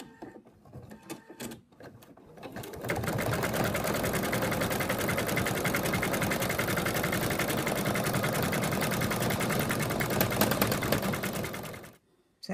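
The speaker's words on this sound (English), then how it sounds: "now it's going to stitch and leave an opening" An embroidery machine stitches an in-the-hoop zipped ladybug purse, with brief handling noises first, then a steady, fast mechanical whirring hum for about nine seconds before it stops.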